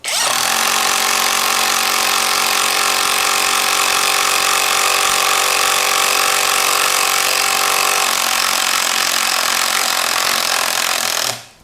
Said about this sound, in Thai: เจาะไม้ เปิดแบบแรงสุดนะค รับ